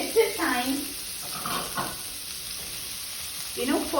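Carrots and potatoes sauté in a pan over medium flame for a mixed vegetable gravy, a steady soft sizzle with a few brief scraping stirs, fairly close and moderately loud, with no talk.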